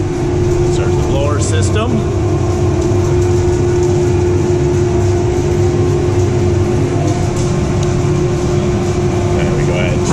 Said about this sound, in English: And then you sequence start it. First we start the blower.